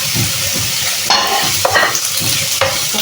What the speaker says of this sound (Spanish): freímos